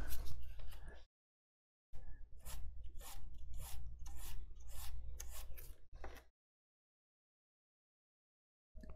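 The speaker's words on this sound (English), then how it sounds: "let me sand that little boss down right there" Hand sanding a small boss on an N scale model structure: quick rhythmic rasping strokes, close and crisp, in two runs separated by silent gaps.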